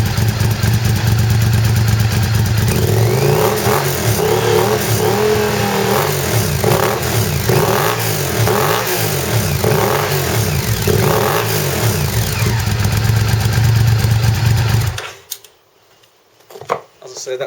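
A Honda VTR 1000F V-twin motorcycle engine with Vance and Hines titanium exhausts revs repeatedly to about 5,000 RPM in rising and falling surges, loud and close, with rumbling idle between, then cuts off near the end.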